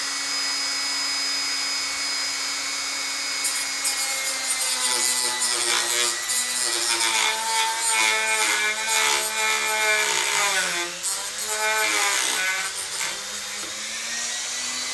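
A file rasps back and forth along the chamfer of a Warmoth baritone guitar neck in close, steady strokes, its scraping tone rising and falling with each pass.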